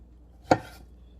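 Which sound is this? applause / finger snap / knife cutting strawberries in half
knife cutting strawberries in half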